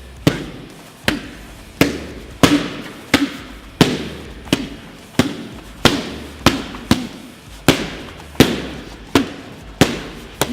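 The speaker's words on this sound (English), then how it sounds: "So if I put a jab up, he hits it." Boxing jabs landing on focus mitts during pad training, about sixteen sharp, punchy smacks in a steady rhythm roughly every half second to second, loud and close with no talking.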